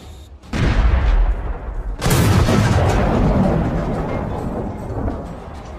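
Heavy gunfire in trench combat near Russian tanks, loud dense bursts and rolling booms that fill the whole stretch, with a sharp fresh blast after a brief lull.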